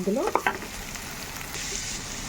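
Washed, chopped fenugreek leaves land in a pan of frying potato masala with ginger, a short burst of clatter and tonal scraping, then a steady close sizzle that continues without speech.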